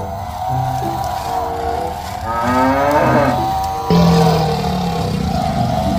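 A cow moos several times, loud and close, in long drawn-out lowing calls that rise and fall, with a gruff roar-like cry near the end.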